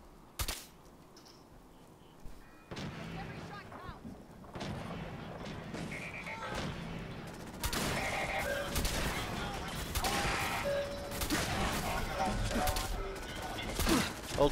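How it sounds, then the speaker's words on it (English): Bursts of gunfire in Fallout 4 crackle in quick rapid volleys, starting sparse and building into dense, loud repeated shots, with game voices talking between and over them. "Hold still, I'm shooting you."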